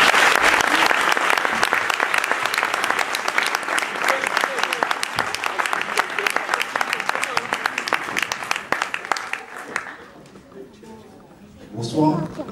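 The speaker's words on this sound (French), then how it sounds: "Je vous demande de lui faire un tonnerre d'applaudissements." A theater audience applauds a slam poet at the Théâtre Gérard Philipe, dense and loud for about ten seconds before fading, followed by a brief spoken greeting.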